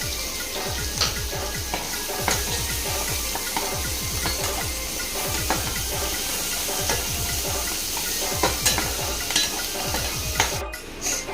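Onions cook in a pan for a Mami fish recipe with a steady sizzle and repeated rhythmic scraping and stirring strokes. The sound stays close and even throughout, with no talking.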